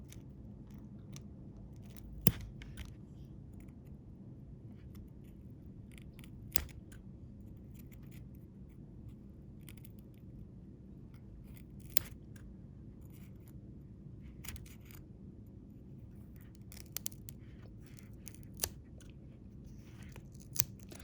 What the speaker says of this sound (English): insert my scissors into this and cut laterally or sideways toward the center of the starfish